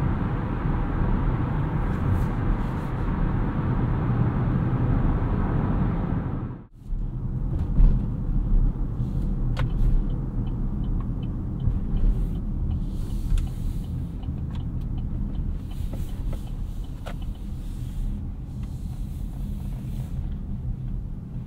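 Steady low road rumble and tire noise inside a 2022 Chevrolet Equinox RS AWD on the move, broad and continuous with one sharp brief dropout, then a smooth cabin hum with faint wind and light mechanical ticks, no talking.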